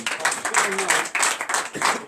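A church congregation at morning prayer claps in acclamation, brisk overlapping hand claps with irregular bursts and voices mixed in.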